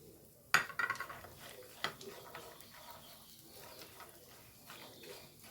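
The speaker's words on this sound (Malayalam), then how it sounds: "ഞാൻ കുറച്ച് അണ്ടിപ്പരിപ്പ് എടുത്തിരിക്കുന്നു. കുറച്ച് ബദാമും കൂടി ഇട്ടിട്ട് ഒന്ന് ആദ്യം ഒക്കെ ഇളക്കി കൊടുക്കാം കേട്ടോ" Cashews and almonds get stirred in a pan, with a cluster of light clinks and rattles early on, then softer scraping and a stray tap, quiet and close.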